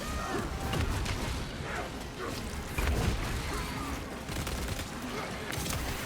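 Bursts of gunfire and a booming bomb blast from a shooter video game fill a dense, continuous, loud battle din, with a voice speaking intermittently underneath.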